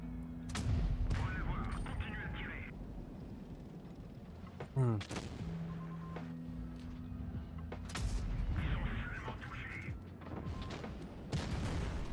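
Tank cannon shots in World of Tanks Blitz during a tournament match, firing HE shells: a few sharp booms, one prominent burst midway, under steady commentary and game background.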